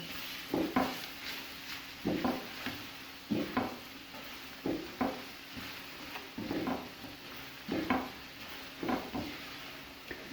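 A spoon stirs a flour (maida) mixture cooking in a pan, scraping in a regular rhythm of soft strokes roughly every second over a faint, continuous sizzle, close up with no talking.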